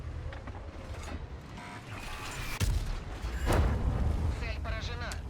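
The ISU-122-2 tank destroyer in World of Tanks fires blind at a position, giving two heavy booming reports about a second apart over a rumbling battlefield background.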